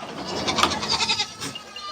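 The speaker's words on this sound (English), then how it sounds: "There's the smallest billy goat that we've ever owned." A very small billy goat bleats in a few short, wavering cries, close by and fairly loud, with no talking.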